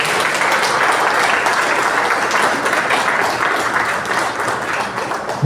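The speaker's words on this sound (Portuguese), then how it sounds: "Vamos aplaudir o Senhor por isso?" A church congregation applauding during a service, loud sustained clapping that fills the room evenly and tapers slightly toward the end.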